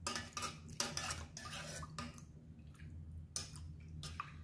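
A metal spoon stirring a large spoonful of ground turmeric in a cup, clinking repeatedly against the sides in quick irregular taps, close and fairly quiet with no talking.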